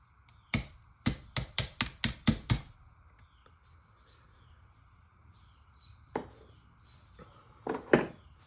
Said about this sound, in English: I'm just going to kind of tap it back down in there